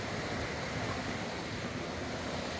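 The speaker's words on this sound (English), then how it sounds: "Walking by this really nice river." A river, Big Branch River on the Appalachian Trail in Vermont, flows in a steady, loud broadband rush of water throughout, close by with wind buffeting mixed in and no voices.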